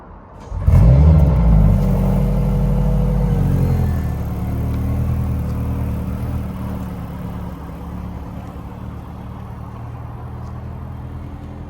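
A 2025 Mercedes-AMG C63 S E Performance estate engine in Sport Plus mode starts with a loud rumble and blip, then settles into a deep steady idle heard from inside the cabin.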